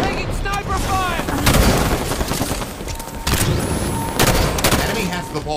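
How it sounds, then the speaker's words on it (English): Bursts of sniper gunfire in a fast multiplayer video game match arrive in a few loud, sharp blasts amid busy game effects, with voices talking throughout. "Taking sniper fire!"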